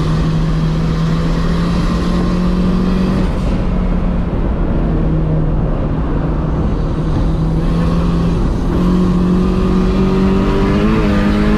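A Honda S2000 race car lapping Sandia Speedway in a time attack session, its engine droning loudly and steadily, dipping when the driver backs off to coast and then climbing again as it pulls back up in revs.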